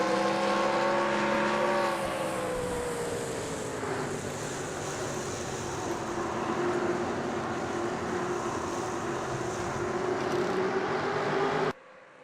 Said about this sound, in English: as we ride on board Jessica Shelton's truck